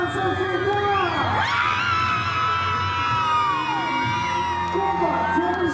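A concert-hall crowd cheers and whoops loudly and continuously at an international dance contest award, as a Crimean Tatar dance ensemble receives the grand prix, a sustained wash of shouts and applause.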